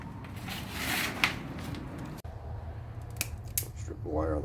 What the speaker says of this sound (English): Strip the wire on the pump.